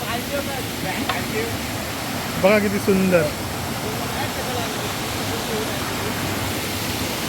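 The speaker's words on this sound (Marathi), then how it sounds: "आता आपण या धबधब्याचा आनंद लुटूया" The Sadya waterfall near Chiplun, fed by streams from seven hills, pours in a steady, even roar close by, with a brief voice speaking over it partway through.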